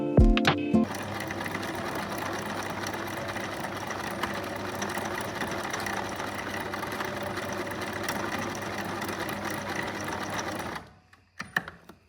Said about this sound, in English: tie or sew both elastics together